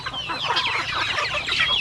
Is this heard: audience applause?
no